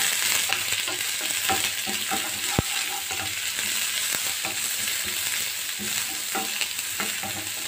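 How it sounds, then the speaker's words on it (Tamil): Onion frying in oil with popped mustard seeds and curry leaves for a plantain stem koottu, a steady close sizzle with occasional stirring clicks and scrapes of the spoon. "வெங்காயம் லைட்டாக ஃப்ரை ஆகட்டும்."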